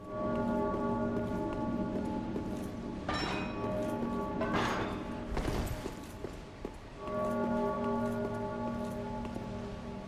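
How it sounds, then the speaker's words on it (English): A church bell tolls in the Dark Souls III video game, its long ringing tones sustained beneath a dense ambient wash with a couple of fresh strikes, and no voices over it. "There's the bell ringing again."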